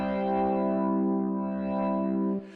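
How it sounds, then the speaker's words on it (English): An organ patch from a Surge XT synth, played as a chord on a LinnStrument, holds a steady, rich sustained tone that swells slightly in volume with pressure, then cuts off cleanly near the end. "So pressure gives me volume of the organ sound."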